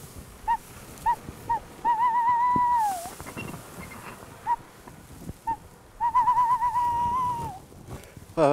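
A man whistles imitations of bird calls such as cuckoo, blackbird and owl on a farm: short paired hoots, then long steady held notes with falling ends, repeated in clear, close phrases separated by brief pauses.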